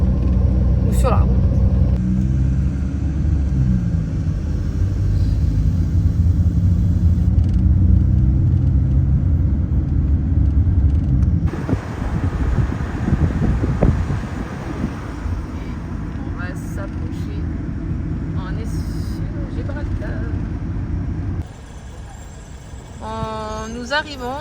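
Car cruising on a motorway heading toward Gibraltar: steady low engine and road rumble with wind noise for the full stretch, shifting in tone partway through, with a few brief higher sounds near the end.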